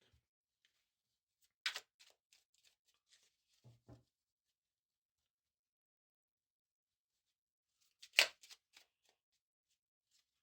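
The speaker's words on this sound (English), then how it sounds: "let me shuffle your cards and try to bring out further messages for you" Two brief bursts of tarot cards being shuffled, soft and close, separated by a long quiet stretch with a few faint taps.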